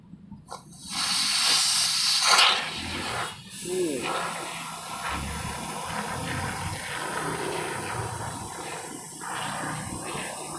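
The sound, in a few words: PU foam spray can spraying foam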